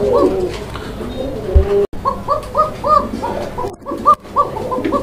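A female pigeon coos in a thin, flute-like voice, a quick series of soft repeated calls, close and clear against a faint background murmur.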